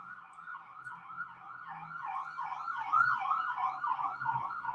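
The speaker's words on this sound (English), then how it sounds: "I don't want to yell over the sirens" An emergency siren wails in a steady rising-and-falling pattern, fairly loud and growing a little stronger, with no voices over it.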